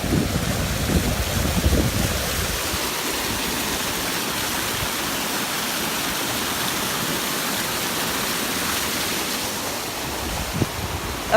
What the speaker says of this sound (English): So it's a fountain.